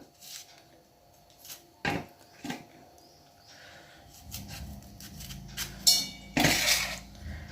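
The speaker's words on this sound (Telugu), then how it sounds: "ఎలా కోసుకోవాలంటే సేమ్ ఇట్లా పొడవులో కోసుకోవాలి" A knife slices a bitter gourd lengthwise on a board for a masala curry, giving a few sharp, close cutting knocks and scrapes spaced irregularly, with clinking of utensils between them and no talk.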